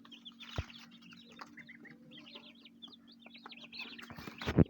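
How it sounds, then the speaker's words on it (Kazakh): Chickens, including Linda and feather-footed Brahma breeds, cluck and chirp softly at close range in a series of short calls, over a steady low hum, with a few sharp knocks. "Тауықтар"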